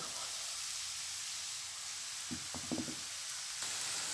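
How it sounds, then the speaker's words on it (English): Onion frying in a pan with garlic for red lentil tarka dal, a steady hissing sizzle throughout with a few brief knocks and stirring taps partway through. "I'm going to fry the onion till it changes color"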